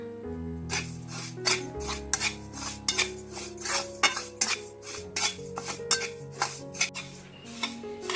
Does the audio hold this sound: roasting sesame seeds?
yes